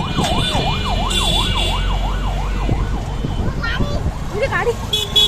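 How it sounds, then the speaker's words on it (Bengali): An ambulance siren wails in a rapid rising and falling pattern, loud and fairly near, over street traffic before it fades and breaks off, with people talking. "হ্যাঁ গাড়ি গাড়ি অ্যাম্বুলেন্স"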